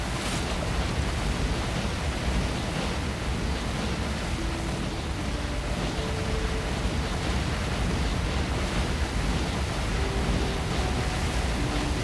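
Water fill from the Factorio IR3 mod sounds as a broad, steady wash of noise like surf, even and unbroken throughout, with no voices.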